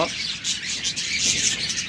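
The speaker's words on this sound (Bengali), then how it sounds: "এরপর রয়েছে অসংখ্য পরিমাণ ডায়মন্ড ডাব, একদম ডিম পাড়া পাত্রে আছে" Diamond doves call in a bird shop with soft chirps and coos over a dense, bright background of other birds, while a voice talks nearby.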